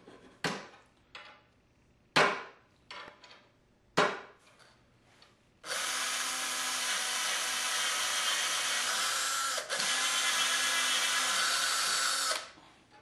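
A power drill drives stainless steel screws into a wooden workbench, with a few sharp knocks and short bursts first, then a loud continuous whirring run of about seven seconds with a brief dip midway.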